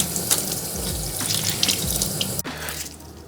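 Tap water runs steadily into a sink while hard-boiled eggs are peeled under the stream, a continuous close splashing with a brief sharp clatter near the end.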